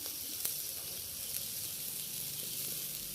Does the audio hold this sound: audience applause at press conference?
no